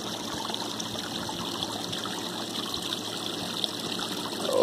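A 500GPH bilge pump pours water into a solar-powered garden pond, making a steady, close splashing trickle that runs continuously with no pauses.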